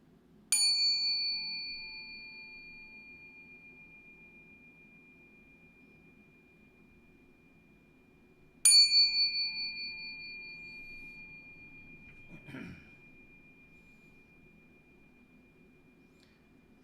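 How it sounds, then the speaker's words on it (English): A temple bell is struck twice about eight seconds apart, each strike a bright metallic ding that rings out and slowly decays, with a faint bump and quiet room hiss between the strikes. "listen to the temple bell"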